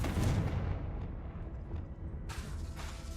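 In the video game Hogwarts Legacy, a Confringo blasting curse goes off as a loud, deep, rumbling explosion that decays over a few seconds, followed by a brighter crackling burst, with no speech.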